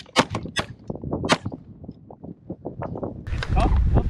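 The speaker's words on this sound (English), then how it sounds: "It's tough shooting in high wind." Gunshots fired at sandhill cranes during a hunt in high wind in Saskatchewan, several sharp loud cracks in quick succession near the start and middle, with wind rumble and talking throughout.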